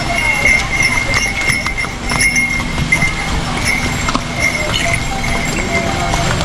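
Horses clip-clop along the busy Kedarnath pilgrimage path, their hoofbeats mixed into a dense crowd murmur and steady background noise, with people talking nearby.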